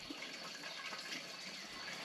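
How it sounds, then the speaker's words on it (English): Water poured into a chicken waterer, a steady, even rush of running water throughout, close and moderately loud. "I was just filling up my new chicken water"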